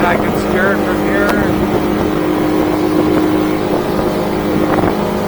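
Hewescraft 240 Ocean Pro boat running on a Yamaha F300 outboard, a steady loud engine drone with rushing water and wind buffeting the microphone throughout.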